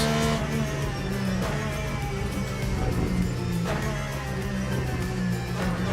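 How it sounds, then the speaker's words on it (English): A race car engine in the video game Le Mans Ultimate drones loudly and steadily, its rich harmonic tone rising and falling slightly throughout. "Good God, this car sounds good."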